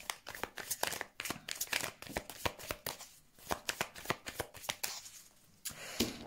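Tarot cards riffled and cut in quick, papery bursts of crisp flicks and soft slaps, close and fairly quiet, with brief pauses between shuffles and no talk.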